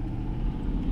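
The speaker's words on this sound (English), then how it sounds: "that was just loud ass truck" Loud truck passing close by in a small town, a heavy low rumble filling the whole moment, steady and dense with no speech.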